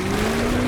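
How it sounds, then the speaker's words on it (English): Steady, loud drone of a fishing boat's engine used to set a hook, a continuous hum with a constant pitch and wash of water and wind noise around it. "We used the power of the engine to set the hook."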